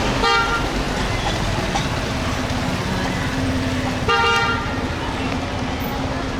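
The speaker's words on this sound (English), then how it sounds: "Yeah, the traffic here is incredible." Dense street traffic in Tepoztlan, Mexico, rumbles steadily with two sharp car horn toots, one near the start and one toward the end, over constant engine noise.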